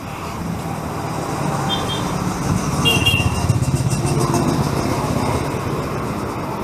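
Motorcycles ride past on a street in Kensington, London, a rumbling engine drone that builds toward the middle and then slowly fades amid steady traffic noise.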